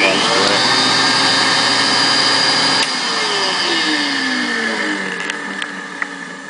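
An old Kodak slide projector with a replaced cord runs close by, giving a loud, steady fan whir and motor hum that shifts and softens partway through, with a falling tone as it changes.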